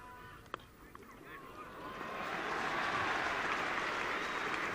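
At Lord's cricket ground, during a 1976 England v West Indies test match, a large crowd's cheering and applause swells from a quiet murmur into a loud, sustained roar after a couple of seconds.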